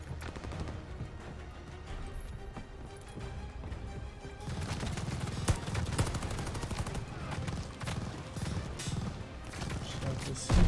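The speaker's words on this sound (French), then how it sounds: "J'ai l'impression qu'une grosse mitrailleuse à gauche." Heavy machine gun fire in the video game Call of Duty: Warzone, bursts of rapid gunshots crackling in the mix, growing denser and louder after the first few seconds, with game sound underneath.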